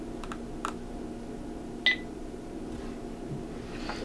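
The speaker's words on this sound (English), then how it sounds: "I'm just going to press the power button on the front here, and we'll go through the startup process" Beltronics Pro 500 radar detector powering up, giving a single short, sharp electronic startup chirp with a couple of faint clicks before it, over quiet room hiss.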